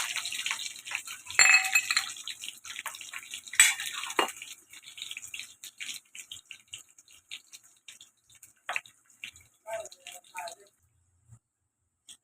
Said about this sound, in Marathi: राईची पण फोडणी देते मी